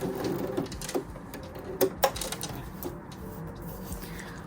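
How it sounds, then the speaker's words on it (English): A CP100X sewing machine runs a backstitch in short mechanical bursts, with a fast rattling stitch rhythm broken by brief pauses and clicks, close and moderately loud. "Okay, and then let's backstitch."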